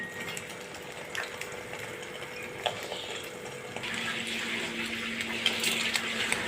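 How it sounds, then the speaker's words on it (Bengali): Beaten egg poured into hot oil in a wok for an omelette; a quiet background gives way to a louder, steady frying hiss and crackle that lasts to the end. "তেলটা গরম হয়ে গেছে আমি ডিমটা দিয়ে দিলাম"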